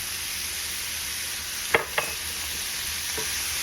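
Ground lamb stirred in a hot pan, a soft steady sizzle with two distinct scraping knocks of a utensil against the pan midway, close and fairly quiet.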